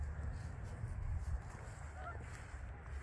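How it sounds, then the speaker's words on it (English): Geese honk a few times at a distance near an abandoned farmhouse, over a steady low rumble of outdoor background noise. "You hear the geese."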